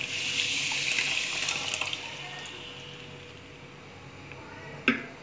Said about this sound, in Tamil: இப்போ நம்ம கிடஞ்சி வச்ச இந்த பருப்பு தண்ணியை நம்ம இதில் ஊற்றிடலாம்